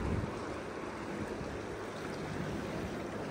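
River water flows under a low water bridge, running high after a good rise, a steady broadband rushing wash with no talk over it.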